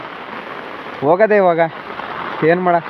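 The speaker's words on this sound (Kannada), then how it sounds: "ಮಳೆ ಇದೆ, ಜೊತೆ ಇದೆ." Rain falls steadily on a misty mountain trek at Kodachadri, a constant hiss running throughout as a person talks in two short bursts over it.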